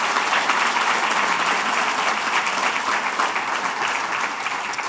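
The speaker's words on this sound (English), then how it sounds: "I'd like to applaud her for the work she does for all of us here." Applause at an education awards dinner in a banquet hall: a dense, steady crowd of clapping hands fills the room continuously at full volume.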